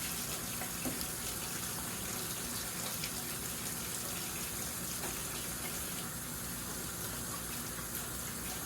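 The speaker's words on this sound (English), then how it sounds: "I'm going to wash my hands." Tap water runs steadily into a sink while hands are washed, a loud, continuous hissing gush that stays even throughout without talk.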